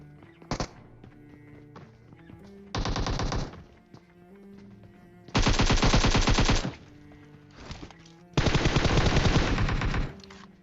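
Automatic gunfire in a shooting video game, where players go for headshots, comes in four rapid bursts: a very short one, then a medium one, then two longer sustained volleys, loud and close with brief pauses between.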